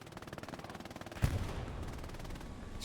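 Video-game machine gun fire in a multiplayer server match: rapid regular bursts of gunshots with a sharp louder crack partway through, continuing steadily to the end.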